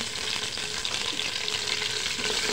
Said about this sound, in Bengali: এগুলোকে 2 মিনিট ভালো করে ভেজে নেব।